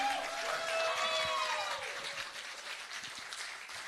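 Audience applause at a screening during the LUMIX 72 Hour Filmmaking Challenge, a soft, distant wash of clapping under a brief voice that tapers gradually toward the end.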